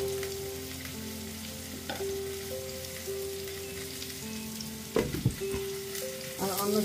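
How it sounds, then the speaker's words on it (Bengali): Food being stirred slowly in a pan as it cooks with hot water, a continuous sizzle with scraping spoon strokes and a couple of louder knocks against the pan late on, steady hum beneath, no talking. "একটু আস্তে আস্তে নাড়া দিয়ে দিই।"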